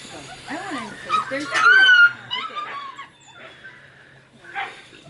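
Puppies whimpering and yipping close by, a string of thin, rising whines and squeaky yips that peak in the middle, with a person talking alongside.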